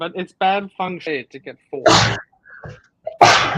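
Two sharp, explosive sneezes burst out loudly and close by, the first midway and the second near the end, following a stretch of casual talk between people.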